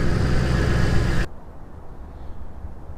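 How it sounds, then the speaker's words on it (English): A Mustang engine with a twin throttle body idles a little high with a steady low rumble, after a burst of louder broadband noise suddenly cuts off. "It idles a little too high."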